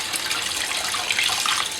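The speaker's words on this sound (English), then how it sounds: "Gently wash the rice 3-4 times till the water turns clear." Rice being gently rinsed in water while preparing chicken pulao or biryani, a steady, close sloshing and trickling wash of water with no voices over it.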